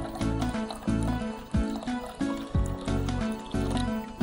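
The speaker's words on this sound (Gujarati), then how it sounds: "આમાં આપણે પાણી ઉમેરીએ છીએ અને ઠંડુ પાણી લેવાનું છે." Cold water being poured into a lassi mixture, a continuous liquid pour and splash with rhythmic gurgling surges throughout, close and fairly loud with no talk.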